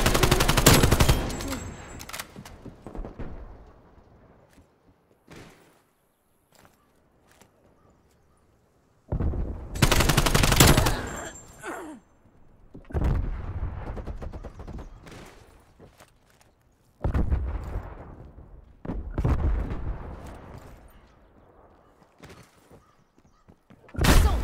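Gunfire bursts in a Call of Duty: Black Ops Cold War multiplayer Hardpoint match, loud volleys of rapid shots coming in several separate clusters with short quiet gaps between them, alongside occasional footsteps.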